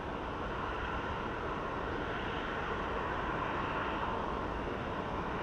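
A plane flying at Phoenix Sky Harbor International Airport, heard as a steady, loud broadband jet roar that holds evenly throughout with no voices.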